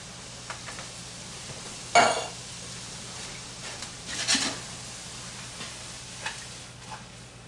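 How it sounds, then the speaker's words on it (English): Onions and carrots saute in a pan for a turkey mushroom meatloaf, a faint steady sizzle broken by a couple of sharp utensil clanks against the pan. "Got my onions and my carrots sauteing here."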